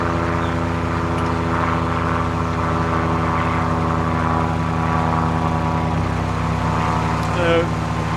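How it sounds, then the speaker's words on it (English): A steady propeller aircraft drone from a plane towing a glider hangs overhead for the whole stretch, moderately loud, with a low engine hum beneath and a faint short chirp near the end. "Plane being towed by a glider."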